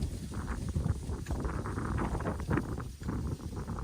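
Wind blows over farmland after heavy rain, a steady rough buffeting roar of gusts hitting the microphone outdoors, loud and continuous throughout.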